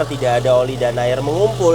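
A 2400cc four-cylinder engine of a 2010 Mitsubishi Grandis GT automatic idles steadily with a smooth, even hum, while someone talks over it throughout.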